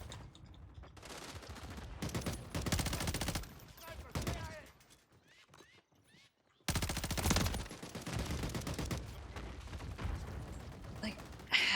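An SMG fires in a shooter video game, sounding as rapid, repeated bursts with a pause in the middle, fairly close and loud against other game sounds.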